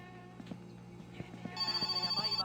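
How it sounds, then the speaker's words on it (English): A phone rings in the video game My Summer Car, a bright trilling bell entering after a second and a half, following quiet clopping thumps. "Oh, that's the phone ringing."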